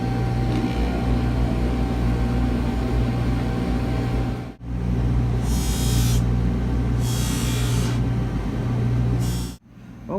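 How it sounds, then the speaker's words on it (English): A buffing machine polishes a metal ring with polishing compound, giving a steady loud motor whir and hum with a sharp tonal line, interrupted by two brief drop-outs and by bursts of high hiss as the piece meets the wheel. "we're going to take this ring over to our buffing machine, and we're going to use some compounds to give this a high polish"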